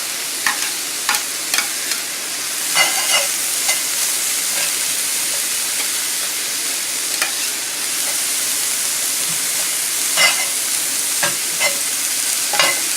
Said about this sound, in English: I'm ready to saute the vegetables.